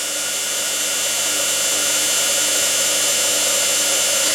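A Logic washer dryer's motor runs with a steady, loud whirring drone and broadband hiss, constant throughout with no talking.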